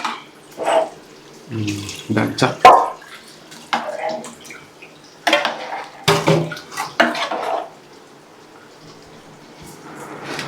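Tamarind broth poured into a pot of fish curry, with intermittent splashing, liquid sloshing and clinks of a metal vessel in several short bursts, close by, alternating with quiet pauses.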